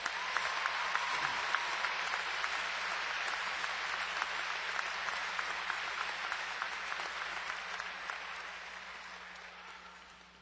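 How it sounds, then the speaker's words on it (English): Sustained applause from a large audience at a 2012 North Kingstown High School graduation honoring class advisors, a dense, even roar of clapping lasting about ten seconds and gradually tapering off. "Please give them a round of applause"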